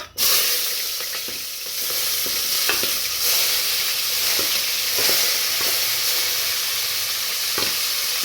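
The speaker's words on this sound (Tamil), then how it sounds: "ஏலக்காய் 2 பொரிஞ்சதுக்கப்புறம் வெங்காயம் போட்டுக்கோங்க" Onions hit hot oil where cardamom has been spluttering, making a steady, loud sizzle that runs throughout, with occasional stirring scrapes and crackles standing out close by.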